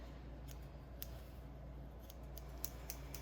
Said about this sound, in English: I'm using these blunt tip scissors